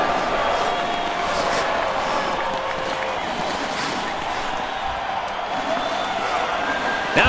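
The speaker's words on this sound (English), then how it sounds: "Listen to this crowd." Home crowd at a hockey game in the video game NHL 2K8, a steady, dense roar of cheering and crowd noise that holds level throughout.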